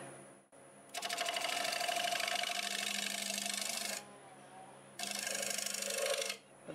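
A negative rake scraper cutting on a wood-turning lathe gives two sustained buzzing, chattering passes, one long and one shorter, over a faint motor hum, with no speech.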